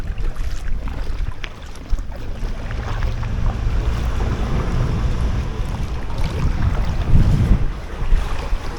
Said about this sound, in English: it's like a wind funnel through there.